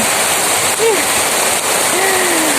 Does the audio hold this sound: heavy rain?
yes